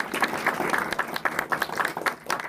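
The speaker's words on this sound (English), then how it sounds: "give her a round of applause" Audience at a school district board meeting giving a round of applause, brisk overlapping claps from a modest crowd, moderately loud and continuous throughout.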